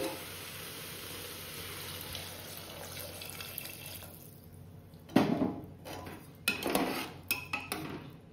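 A steady sizzle of potatoes, onions and tomatoes frying in a pan gives way to a loud splash and hiss as water goes in, followed by metallic clanks and scrapes of a utensil against the pan; no speech.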